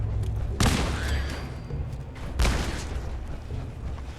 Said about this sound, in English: Bring out the grenades. Grenade out! Grenade out!